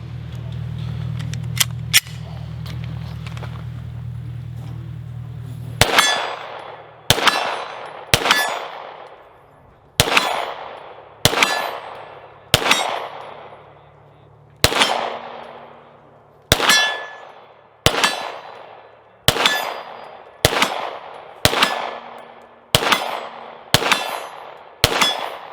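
Laugo Alien handgun, a low-recoil pistol fired with open sights at steel targets: about fourteen sharp shots in a quick, steady cadence, each a loud crack with a ringing metallic clang that decays before the next.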